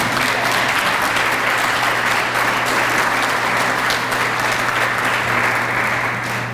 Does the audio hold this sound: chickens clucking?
no